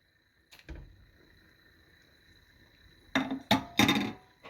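Cheese soup being stirred in a pot, a few sharp clinks of a utensil against the pot arriving in a quick cluster near the end after a single earlier knock, with a faint steady hum underneath.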